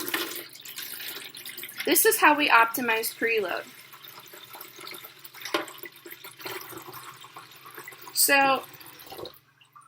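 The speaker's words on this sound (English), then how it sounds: "So I'm going to start by pouring some water into the tank." Water poured into a fish tank for a demonstration, a soft trickling splash running beneath a person talking.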